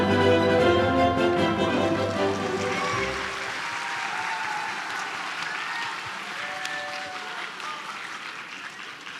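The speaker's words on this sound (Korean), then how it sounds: "여러분 큰 박수로 환영해 주시기 바랍니다." Sustained applause from a large audience at the opening ceremony of a climate industry expo in Busan, rising as background music ends and continuing as a broad, even wash of clapping.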